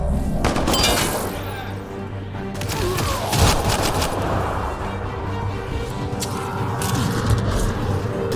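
Sustained gunfire from the Mass Effect Andromeda video game, a loud dense fusillade of overlapping shots and booms rolling on continuously, with a voice speaking briefly amid the firing.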